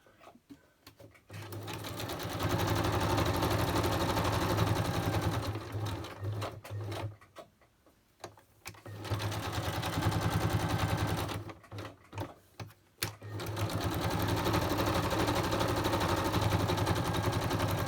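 A sewing machine running long big-stitch seams through cardboard, loud steady mechanical whirring in three runs separated by short pauses with faint handling sounds.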